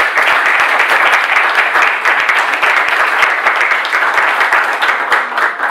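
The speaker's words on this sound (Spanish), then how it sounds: "por favor, un fuerte aplauso" A dense, loud crowd applause fills a political meeting hall on public services remunicipalisation, sustained and even throughout with no break.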